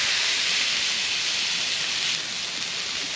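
Turkey smash burgers pressed flat with spatulas on an oiled, seasoned Blackstone griddle give a loud, steady sizzling hiss that fills the whole stretch without pause, easing slightly near the end.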